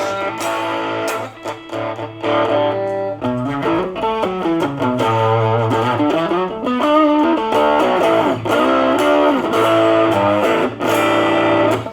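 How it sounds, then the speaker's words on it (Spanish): Electric guitar played through a Marshall Code 25 amp on its British distortion voice, with loud, continuous crunchy chords and riffs ringing out alone for the whole stretch. "Es una distorsión un poquito más fusera, más británica."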